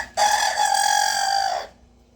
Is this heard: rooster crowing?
yes